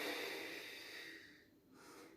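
Slow, deep breaths in and out during an exercise routine, a close airy exhale that fades and then a fresh intake of breath, faint and without speech.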